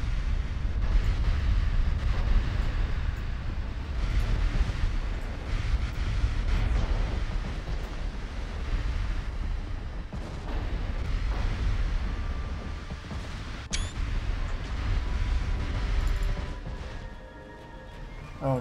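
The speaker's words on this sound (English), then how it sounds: "Oh, they're firing at us." Enemy ship gunfire and explosions in a naval video game, heavy low booms and rumbling blasts rolling on continuously at moderate loudness with no talk.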